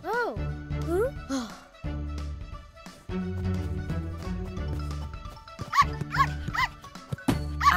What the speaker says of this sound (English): What a cheeky little puppy.